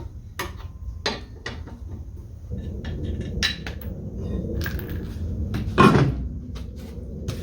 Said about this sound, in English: now I can go ahead and take off the rest of the lug nuts